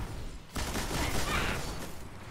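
Heavy-weapon gunfire in the Destiny video game Iron Banner Mayhem Clash mode, a sudden burst that starts after a brief lull and continues as a dense, sustained roar of shots and impacts.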